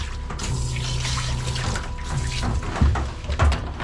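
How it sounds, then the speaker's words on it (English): A tap runs steadily while hands are rinsed under it during a dog grooming session. The water hisses and splashes nearby, with a few louder splashes and thumps toward the end. "And then I'm going to rinse my hands real quick."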